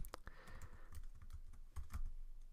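Quick bursts of typing on a computer keyboard while code is entered, with crisp close key clicks at an uneven pace and a few short pauses.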